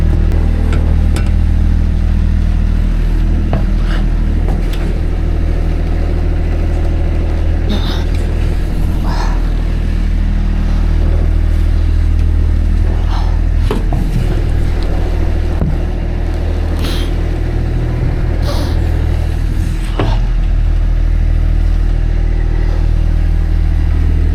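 A tractor engine runs steadily close by at a building site while stone flooring is laid, a continuous mid-pitched rumble with occasional clatter and faint voices in the background.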